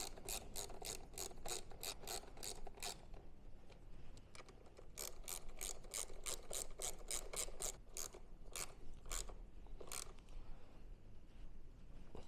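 A ratchet clicks in quick bursts while tightening the seat bolt on a custom Honda CB1000R, crisp close ratcheting strokes in two runs separated by a short pause, fairly quiet overall.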